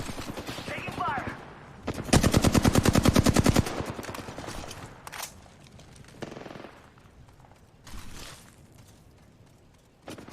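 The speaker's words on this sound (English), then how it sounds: "Taking fire." Video game gunfire: sustained rapid automatic bursts, loud and close, followed by scattered shorter shots and noise, with players talking over parts of it.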